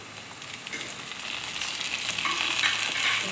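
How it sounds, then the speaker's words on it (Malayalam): Tomatoes added to softened onions in a pan for biryani, a loud continuous sizzle and frying hiss that swells as they are stirred in, close by and with no voices. "ഇനി ഇതിലേക്ക് തക്കാളി ഇട്ടെടുക്കാം"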